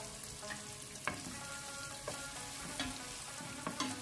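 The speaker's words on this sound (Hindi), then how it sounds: "इसे थोड़ा सा सोते करेंगे, 4 से 5 लहसुन के जो है वो ऐड करेंगे।" Cumin and garlic sautéing in a pan, a steady quiet sizzle and crackle with a few brief stirring clinks and scrapes spaced through it, no voices.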